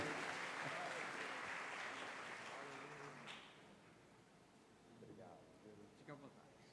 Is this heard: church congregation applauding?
yes